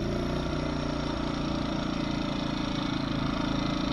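An EcoFlow smart generator's engine runs with a steady, even drone, close by and moderately quiet, with no speech over it.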